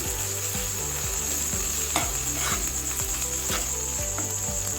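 Salt and ginger-garlic paste being stirred in a frying pan while cooking Bengali rui fish kalia, with a steady close sizzle under rhythmic scraping strokes of the spoon and no voices.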